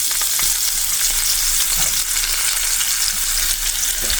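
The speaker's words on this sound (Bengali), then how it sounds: "পেঁয়াজ ভাজা" Onions frying in hot oil in a home kitchen in Korea, a loud, dense, unbroken sizzle heard close up and alone, with faint stirring touches underneath.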